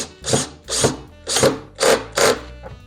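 Power drill driving screws into the top of a surfboard coffee table, with five loud, close bursts of motor whine spaced about half a second apart, each rising and cutting off as a screw seats.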